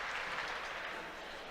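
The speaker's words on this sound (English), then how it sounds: "here he is getting a clap from his competitors" A small group of competitors at a track and field championship claps together briefly after a triple jump, a soft, steady patter of hands that fades slightly toward the end.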